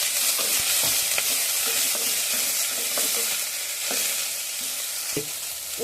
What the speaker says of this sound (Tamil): இப்போ ஸ்ப்ரிங் ஆனியன் ஒயிட் கொஞ்சம் வெந்துருச்சு